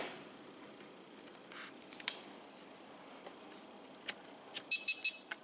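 Snap-on MODIS diagnostic scanner giving a quick burst of three short electronic beeps as it is plugged in, near and clear against a quiet room with faint handling noises.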